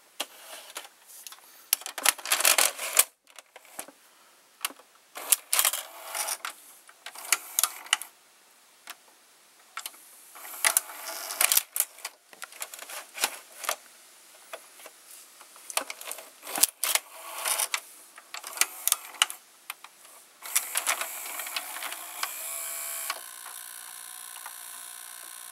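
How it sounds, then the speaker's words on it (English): A JVC HR-VP606U VCR's loading motor runs close up, giving off irregular bursts of mechanical clicking and ticking with short quiet gaps, ending in a steadier whirring stretch; no one speaks. "The loading motor is making that sound."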